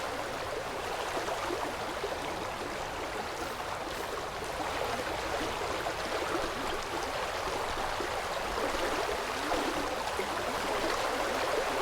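Water flows steadily from a water source block in the Vintage Story survival game, a continuous, fairly quiet rushing stream with no speech.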